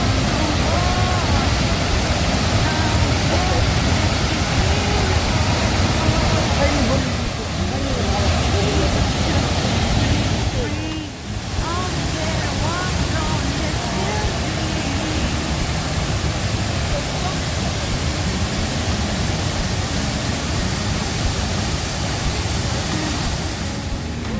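Loud, continuous rush of Cheonjiyeon Waterfall on Jeju Island, a broad steady roar that barely changes, with faint voices mixed in.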